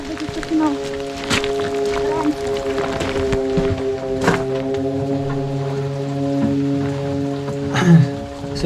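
Light rain patters steadily nearby in the mountains, with scattered heavier drips and a low steady hum running underneath throughout.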